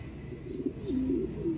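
A pigeon coos nearby, a low soft warbling call repeated a couple of times, with no voices around it.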